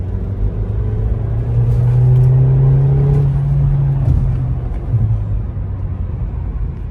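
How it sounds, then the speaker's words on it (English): A Renault Laguna Coupe engine rumbles and rises in pitch as it accelerates steadily in third gear from 2000 RPM, then eases off and settles into a low drone. "Small pull in 3rd gear from 2000 RPM."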